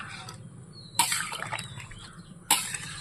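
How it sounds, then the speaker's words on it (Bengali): Water poured into frying spice paste for a crab and bottle gourd curry, two sharp splashing hits with sizzling and clattering close by, between quieter stretches of kitchen noise. "এবার আমি এর মধ্যে পরিমাণ মতো জল দেবো"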